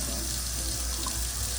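Hot tap water runs in a steady, close hiss and splash over frozen chicken in a kitchen sink, with no talking.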